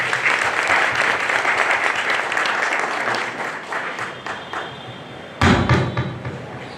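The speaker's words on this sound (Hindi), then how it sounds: "तालियों के साथ स्वागत करेंगे।" A church congregation at a Holy Saturday Passion Week service applauds in a steady, dense wash as a visiting speaker and his team are welcomed; the clapping fades, then a loud thump cuts in near the end.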